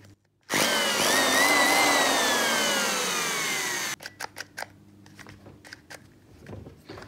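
A Skil 420-watt electric drill that sparks spins up with a loud whine that slowly drops in pitch, cuts out abruptly, then gives a few faint stuttering bursts as it runs intermittently.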